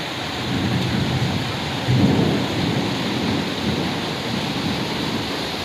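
Heavy rain pours steadily in a hailstorm, with a low rumble of thunder swelling briefly near the middle; a dense, continuous wash with no voices.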